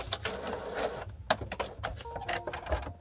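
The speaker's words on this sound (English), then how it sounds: "Hear that noise, it's trying to feed paper" An HP Photosmart 7520 printer trying to feed paper, giving close, quiet mechanical whirring and clicking in uneven bursts.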